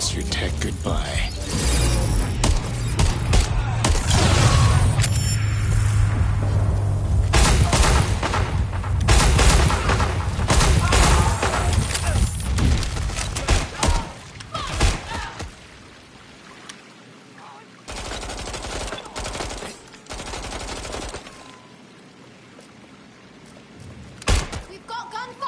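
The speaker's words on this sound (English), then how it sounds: "We've got gunfire! I need cover!" Gunfire in the video game Watch Dogs Legion, loud bursts and rattling shots crowding the first fifteen seconds with mechanical clatter, then thinning to sporadic isolated bangs over quieter ambience.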